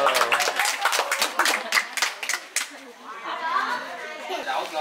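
Quick, lively clapping at a baby's first birthday party in the Mekong countryside, several close sharp claps fading into chatter and children's voices, with people talking throughout.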